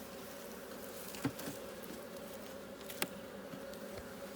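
Honey bees hum in a soft, steady drone around an open hive, faint and continuous, with a couple of brief clicks or knocks from handling.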